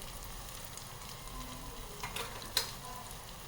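Turmeric, red chilli, garam masala and coriander-cumin powder frying in tomato masala for a Khandeshi dry sandgya bhaji, a soft, steady sizzle with a couple of brief crackles near the end.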